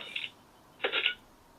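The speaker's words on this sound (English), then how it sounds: "you get that sound from the saber which shows that it's connected." Two short electronic chirps from an Electrum Sabercrafts Remnant lightsaber confirming its connection, a brief tone followed by a longer one about half a second later, clear and close in a quiet room.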